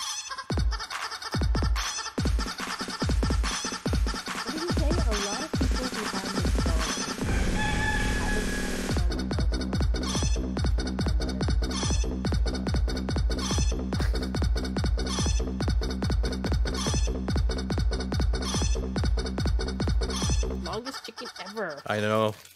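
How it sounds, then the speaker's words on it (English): Chicken dance from the digital Quacks of Quedlinburg game, a rhythmic musical sequence of clucking and crowing, first a few choppy bursts, then a long steady pulsing pattern, loud and up front. "We'll wait till the chicken dance is done."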